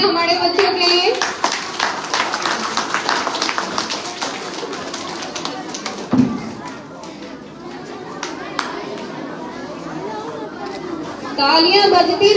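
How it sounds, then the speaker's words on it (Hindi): Crowd at a school award show applauding for children, a steady wash of clapping mixed with chatter and children's voices, with a brief thump midway and a surge of sound near the end. "जोरदार तालियां हमारे बच्चों के लिए।"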